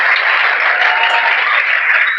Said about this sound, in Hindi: एक बार तो आप ताली बजा लिए हैं